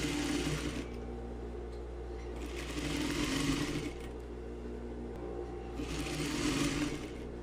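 Sewing machine running a straight seam on a tailored vest front, the motor whirring in three short bursts separated by quieter pauses.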